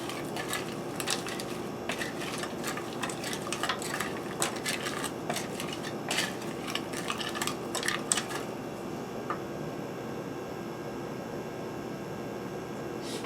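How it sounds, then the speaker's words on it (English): Garlic butter frozen vegetables stirred in a pan, with a spoon clicking and scraping in quick irregular taps over a soft sizzling hiss, then the scraping stops and only the quiet hiss remains. "stirring often until heated through, and then I'll be draining it and returning the vegetables to the pan"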